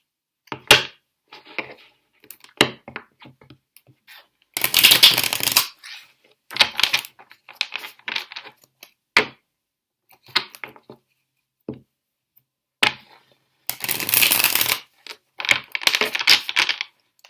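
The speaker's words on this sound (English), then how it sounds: "I'm just going to shuffle first." Tarot cards being shuffled by hand during a reading, close and crisp, with bursts of riffling and softer taps and slides separated by short silences, and no talking over them.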